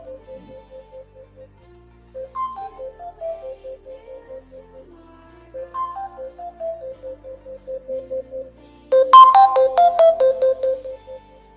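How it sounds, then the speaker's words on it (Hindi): Phone ringtone triggered by the find-phone feature of a KW39 Max smartwatch, a clear melodic beeping tune in repeated pulsed phrases, growing noticeably louder and brighter near the end, with no talking. "मोबाइल के अंदर से तो काफ़ी अच्छी आवाज़ आ रही है, सही क्लियर और लाउड आवाज़ आ रही है"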